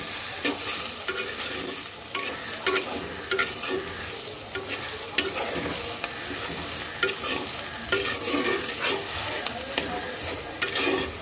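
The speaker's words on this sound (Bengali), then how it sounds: "আগে পেঁয়াজটা ভাজা হোক" Chopped onion and tomato sizzle steadily in hot oil in a pan while a spoon stirs them, the scrapes and clinks repeating at an irregular rhythm over a constant frying hiss.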